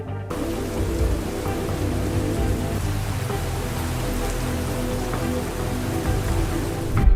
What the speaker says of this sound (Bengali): ঝড় বৃষ্টির এরকম দৃশ্য দেখাটা সত্যি ভাগ্যের ব্যাপার